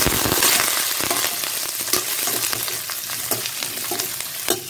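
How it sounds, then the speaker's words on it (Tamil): Cashews, sliced onion and a few curry leaves sauté in oil on low heat for a yam cutlet, giving a steady close sizzle with intermittent scraping stir clicks and no talking. "எல்லாம் சிம்மில் வச்சு வதக்கிக்கலாங்க"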